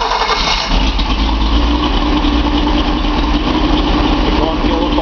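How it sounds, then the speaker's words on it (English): A Nissan 280Z's L28 inline-six engine cranks and settles into a steady, loud idle, a close continuous rumble throughout with no pauses. "I'm going to crank up the engine, stand back a little bit."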